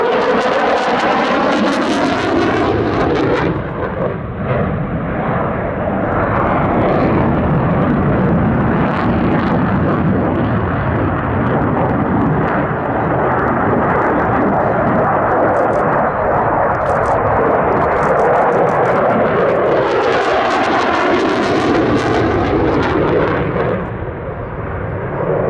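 A Eurofighter Typhoon jet at the Duxford Battle of Britain air show gives a loud, sustained roar that swells and rumbles for the whole stretch, with a commentator's voice faintly mixed in.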